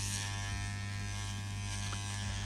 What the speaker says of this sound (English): he saw this strange device that buzzed and buzzed like anything